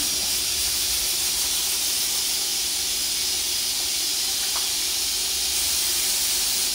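Bright silver paint hisses steadily from a spray gun onto an alloy wheel during repair, a continuous close broadband spray lasting throughout with no voices.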